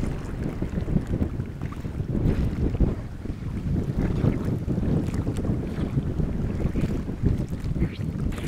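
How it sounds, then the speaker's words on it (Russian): Strong side wind blows steadily across an open spot during spinning-rod jig fishing, a loud continuous roar and buffeting rumble against the microphone, with no talk over it. "довольно сильный боковой ветер внезапно"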